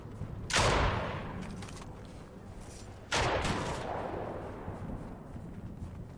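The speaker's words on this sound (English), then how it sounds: "I'm running from the guy that's shooting me." Gunfire in the video game Fortnite Chapter 3: two loud, heavy shots a few seconds apart, each trailing off in a long rumbling decay over a steady background hiss.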